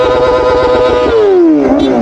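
Kawasaki ZX4RR sportsbike engine revving up close: a loud, steady high-pitched rev that holds, then slides down in pitch as the throttle closes, with no talking.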